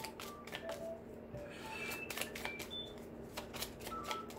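Tarot cards shuffled and drawn from the deck, a run of soft papery riffles and flicks with quick card snaps, close up over a low steady hum, no talking.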